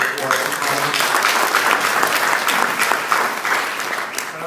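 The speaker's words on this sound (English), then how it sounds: "So just a little round of applause for Tony." A room of members at a fraternal order gathering claps for an honoured former national president, a lively continuous round of applause, close and full, tapering slightly at the end.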